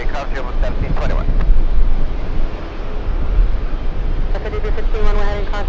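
A JetBlue jet airliner takes off with a steady, loud broadband engine roar that holds through the whole stretch, while people talk over it at the start and end.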